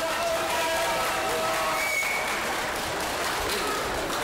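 Audience applause fills a hall during a 1999 lookalike show in Opatów, Poland, a steady dense clapping that holds loud and even from start to end.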